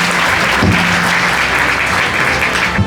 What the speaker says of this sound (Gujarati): થોડી તાળી પાડજો